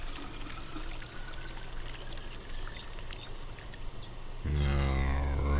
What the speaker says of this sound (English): Alright, put some water in there.